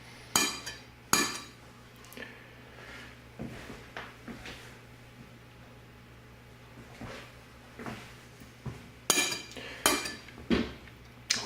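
A frying pan is handled on a stove to cook puffball mushrooms in butter, giving sharp metallic clanks and clinks in scattered bursts, close by over a low steady hum.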